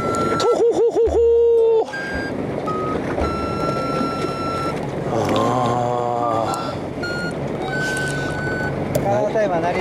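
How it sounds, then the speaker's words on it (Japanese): An electronic timer alarm beeps aboard a fishing boat during early-winter squid fishing off northern Kii, with rapid repeated tones over engine noise while people talk. "カータイマー鳴り出してるんちゃいます"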